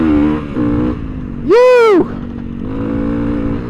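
A big-bore Honda CRF300L dual-sport motorcycle pulls hard after a downshift, its engine buzzing loud and close, broken briefly by a rider's shout.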